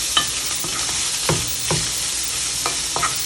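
A jambalaya pot on the stove, bubbling and sizzling with a steady hiss, broken by a few scrapes and knocks of a spoon against the pot, close and without any talk.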